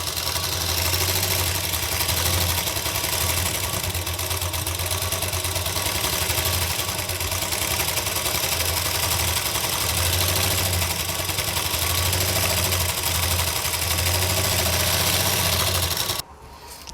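A sewing machine stitches steadily around the hem of a wrap palazzo, a loud continuous motor whir with a rhythmic pulse that runs nearly the whole time before cutting off at the end.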